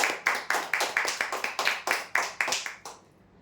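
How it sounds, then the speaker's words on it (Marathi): Audience members clap for a prize-draw winner, a sparse series of about a dozen distinct, evenly spaced claps that stops abruptly, leaving quiet. "जोरदार टाळ्या द्या आमच्या पांडे सरांसाठी"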